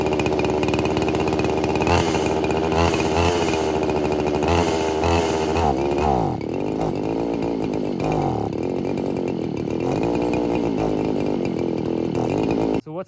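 A two-stroke chainsaw running on vodka roars loud and close for the whole stretch, revving and bogging unevenly as the lean-running engine surges, then cuts out abruptly at the end.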